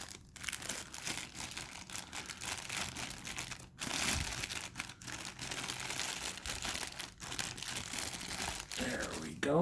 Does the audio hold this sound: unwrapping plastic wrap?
yes